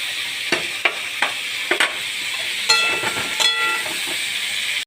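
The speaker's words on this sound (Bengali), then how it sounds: "এবার আলুটা আমি গরম তেলে ছেড়ে দিয়েছি।" Cut potatoes sizzle steadily in hot oil in a wok, a loud continuous fry with a few sharp spatter pops and stirring scrapes, with no talking.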